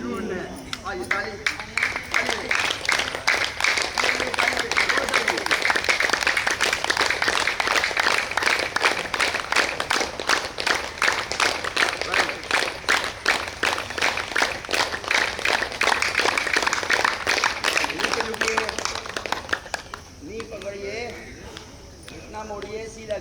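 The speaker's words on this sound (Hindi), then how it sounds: "आइए ताली" An audience claps steadily and rhythmically at an Akhanda Yoga workshop held in the Department of Physical Education at AMU Aligarh. The sustained, even clapping runs for about eighteen seconds, then fades as a voice returns.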